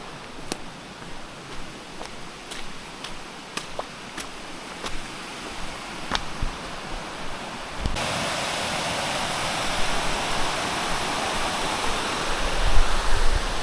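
An unmarked waterfall on a mountain trail rushes with a steady broadband roar, faint at first with sharp ticks, then swelling loud and close as the falling water takes over.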